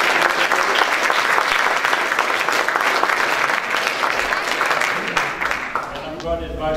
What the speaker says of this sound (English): Give all the candidates one last round of applause.